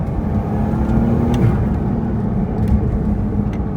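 2020 Porsche 992 911 Carrera 4S Cabriolet accelerating: a steady, loud engine drone with road and wind rumble heard from the cabin, the pitch shifting slightly as it pulls, without talking.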